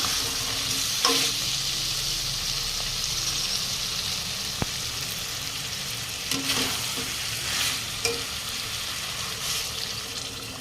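Water poured into a pan of sizzling spiced potato and pointed gourd being cooked into a vegetarian curry, with a steady frying hiss and a few clinks and stirring knocks.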